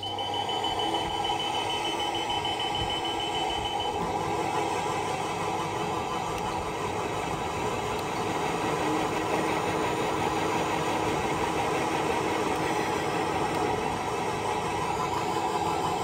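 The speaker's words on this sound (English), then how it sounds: "We'll now start the machine with both blowers and material turned on." A CM-2400 insulation blowing machine runs with both blowers and the material feed on, a constant loud mechanical drone with a whining motor tone and rattling feed, steady throughout with no talking.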